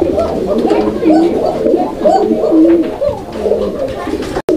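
A pair of pigeons coo in repeated soft, rolling calls at a crowded pigeon market, close and clear over a steady background hum of people.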